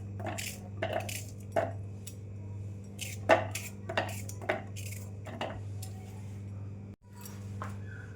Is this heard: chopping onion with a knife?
yes